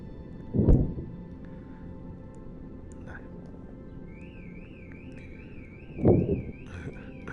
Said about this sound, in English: Set the car alarm off there.